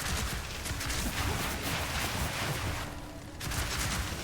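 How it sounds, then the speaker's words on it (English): Dense, continuous crackle of distant gunfire fills the Path of Exile 2 scene, a fairly loud barrage of rapid overlapping shots that dips briefly before resuming, with no talk over it. "Just firing off in the distance."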